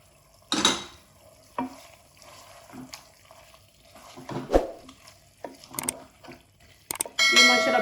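Kaleji masala being stirred in a pan with halved tomatoes and green and red bell peppers, scattered scraping and clattering stirs with soft sizzling between them, ending in a louder burst of frying.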